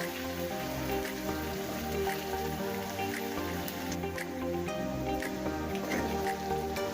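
Urad daal fries in a pan with a steady crackling sizzle, close and continuous, over background music.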